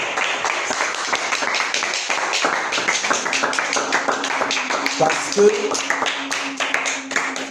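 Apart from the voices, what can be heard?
congregation applauding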